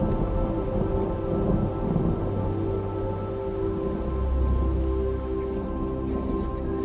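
Steady heavy rain pours during a storm on New Zealand's Routeburn Track, with a low thunder rumble swelling toward the end beneath the constant hiss of falling water.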